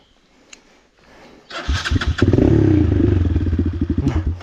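A motorcycle that has just crashed is started: a quick cranking clatter, then the engine catches and settles into a loud, close, rapidly pulsing idle.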